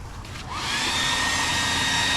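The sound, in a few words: hair dryer on max heating boat lettering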